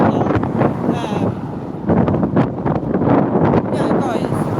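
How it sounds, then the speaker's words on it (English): Strong outdoor wind buffeting a microphone, a loud, continuous rumbling roar with gusty surges throughout, while a person talks underneath. "It's so windy, it's actually distracting me"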